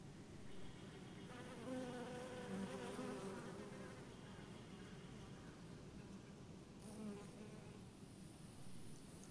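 Bees buzz steadily and softly up close among flowers in a summer garden, several droning tones overlapping and drifting in pitch, with no voices.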